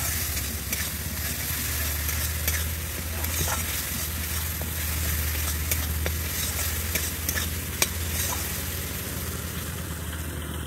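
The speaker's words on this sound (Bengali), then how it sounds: "দিয়ে আমি এটাকে ভালোভাবে কষিয়ে নেব।" Poppy seed and cashew paste thinned with a little water sizzles steadily in a kadai while being stirred and sautéed, with scattered scrapes over a low continuous hum.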